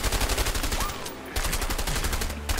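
Rapid automatic gunfire in the video game A Way Out, a steady stream of loud shots with brief gaps, close and dominant.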